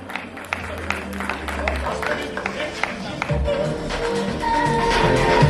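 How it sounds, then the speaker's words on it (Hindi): Audience applause at a Hindustan Ratna Award ceremony, a moderately loud, uneven patter of clapping with scattered sharper claps and crowd murmur, building slightly toward the end. "जोरदार तालियां हो जाए दोस्तों"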